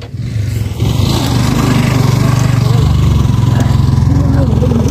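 Motorcycles climbing uphill on the Tare Bhir ride, a loud, steady buzzing engine drone that rises and holds, with voices talking close by.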